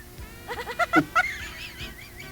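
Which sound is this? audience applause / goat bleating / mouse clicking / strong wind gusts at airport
goat bleating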